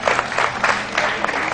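Applause from a morning show studio audience, a short burst of brisk clapping from many hands, loud and continuous.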